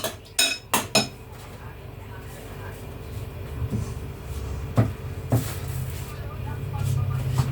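Potato pizza ingredients are stirred in a dish with utensils, giving a series of clinks and knocks against the bowl over a low background rumble, with some soft talk in the background.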